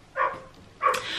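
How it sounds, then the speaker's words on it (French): A neighbor's dogs left outdoors bark in two separate bursts, the second followed by continued yapping, heard from some distance outside with no talking. "la voisine les laisse dehors tout le temps et les chiens aboient tout le temps"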